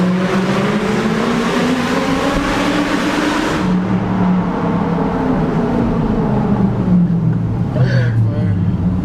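A car engine revs hard and steadily, loud and close, with the pitch rising and falling as the throttle is pushed toward the rev limiter in a bid to make it backfire.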